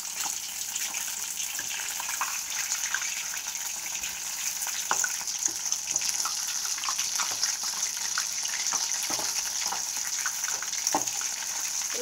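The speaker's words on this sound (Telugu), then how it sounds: "ఇలా గోల్డెన్ బ్రౌన్లో వచ్చేంత వరకు వేయించుకొని చూసారు కదా, ఇలా వేగిపోయాయండి." Soya chunk meal maker kheema balls frying steadily in hot oil, a continuous close sizzle with scattered crackles and pops throughout.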